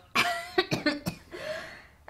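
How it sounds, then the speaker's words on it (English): A few sharp coughs in quick succession, close and fairly loud, followed by a brief throaty rasp trailing off. "And I'm coughing."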